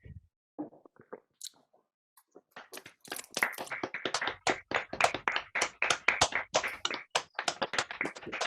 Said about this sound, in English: Let's all unmute so we can applaud.